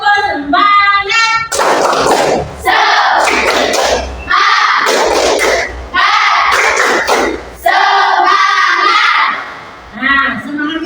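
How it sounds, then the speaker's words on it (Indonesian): A class of children in an Indonesian primary school lesson does a rhythmic spirit clap, with loud, repeated group chanting and bursts of clapping and thumps that stop and start in phrases. "Tepuk semangat."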